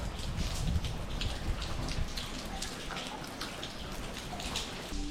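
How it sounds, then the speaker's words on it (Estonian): Steady, non-stop rain falls outside, a dense hiss of drops pattering on surfaces that stays loud and even throughout, with no voices. "Õues reaalselt sajab nagu eilsest õhtust saati, lihtsalt non-stop"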